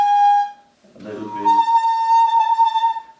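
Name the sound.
musical saw bowed badly like a violin or cello player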